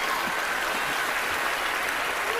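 Audience applause at the Oscars ceremony, a dense, sustained wash of clapping from a large crowd, steady and loud throughout with no break.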